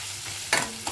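Egg frying in a home kitchen pan, a steady low sizzle with a brief burst of stirring scrape midway and a smaller one near the end, all fairly quiet with no voices.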